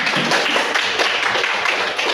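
Classroom audience claps after a student group finishes its discussion presentation, a dense, steady burst of clapping lasting a couple of seconds with no talking over it.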